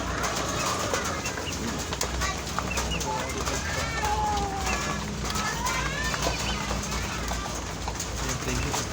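Pigeons cooing and birds calling amid a busy, noisy background, with people talking throughout, at a pigeon breeder's loft.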